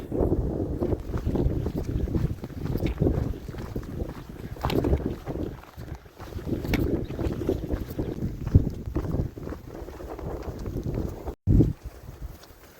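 Strong outdoor wind buffets the microphone in a continuous low rumble with gusty swells, dropping out abruptly for a moment near the end before roaring back.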